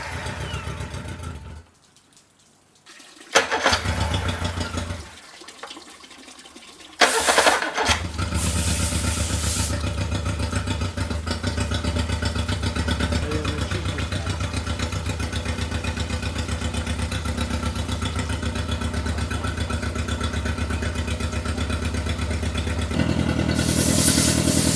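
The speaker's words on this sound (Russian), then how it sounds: "Подаем воду в трубку охлаждения и запускаем мотор без редуктора." A Yamaha F50A outboard motor, run without its gearbox and with water fed to the cooling tube, cranks a few times, sputters, then starts and runs steadily at a loud, even idle, rising slightly near the end.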